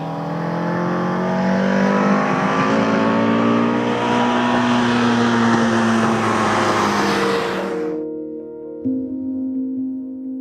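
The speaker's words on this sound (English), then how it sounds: "I drive a 1970 Alfa Romeo Giulia 1300 Ti" A 1970 Alfa Romeo Giulia 1300 Ti engine drones loudly and steadily while driving, with a rich harmonic tone that drops abruptly to a lower idle near the end.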